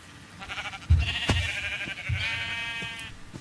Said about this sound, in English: At least we got sheep.